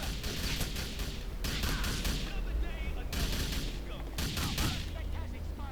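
Gunfire in the video game GTA Vice City, dense bursts of rapid shots in several clusters with short gaps, loud and continuous across the clip.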